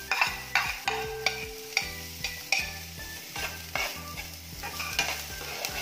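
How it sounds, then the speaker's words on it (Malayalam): One finely chopped onion fries in a pan for a Kannur-style stuffed onion snack, with a steady sizzle and a regular rhythm of stirring scrapes close by. "അതിനുശേഷം പൊടിയായിട്ട് അരിഞ്ഞിട്ടുള്ള 1 സവാളയാണ് ഞാനിപ്പോൾ ചേർത്തിട്ടുള്ളത്."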